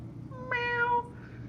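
A person's voice imitates a single cat meow, a short, close, rising-and-falling tone heard alone over faint background hum.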